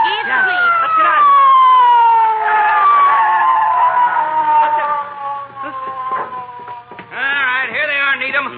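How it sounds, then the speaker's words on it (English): A police siren from an old-time radio drama wails loudly and steadily for several seconds, sliding down in pitch and then rising again, with voices and shouting underneath. "Magee, I hear a siren."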